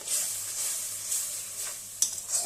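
Rinse water from a mixer jar poured into frying masala for butter paneer in a pan, producing a steady, close hiss and sizzle that runs throughout, with faint stirring scrapes.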